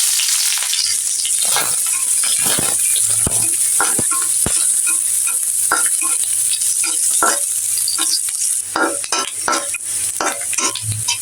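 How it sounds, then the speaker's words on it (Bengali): Chopped onions fry in a pan for potato bharta, a loud continuous sizzle with repeated scraping and clinking of a spoon stirring against the metal throughout. "পেঁয়াজ কুচি করে রেখেছি, এখন ভেজে নিব ভর্তার জন্য।"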